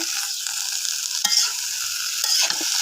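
Curry with red amaranth greens being stirred in a pot over a clay stove, a steady close sizzle and frying hiss broken by a few sharp scrapes of the spoon against the pot.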